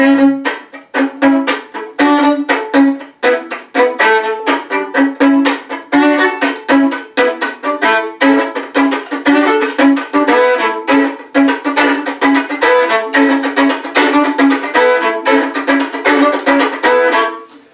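A fiddle plays the Top Gear theme tune at an unhurried pace, with short repeated bowed notes in a steady rhythm over a sustained low drone.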